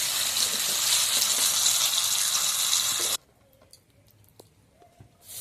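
Salt and turmeric hit hot oil in a pan before a hilsa fish head is fried, giving a loud steady hiss that cuts off abruptly into near silence with faint clinks.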